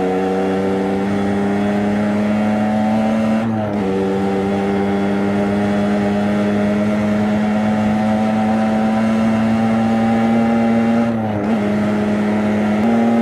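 Motorcycle engine pulling steadily under acceleration on a ride, a loud close drone with a strong steady tone, briefly dipping twice at gear changes before rising again.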